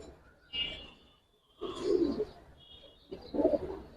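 Giribaz pigeons in a loft give a few soft, throaty coos in short bursts, fairly close, separated by quiet gaps.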